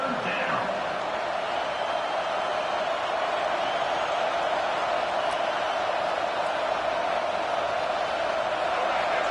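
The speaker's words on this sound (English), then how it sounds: "Here comes this home crowd as the defense tries to get off the field on third down" A home crowd at an American football game sends up a steady, loud roar as the defense faces third down, a commentator talking over the noise throughout.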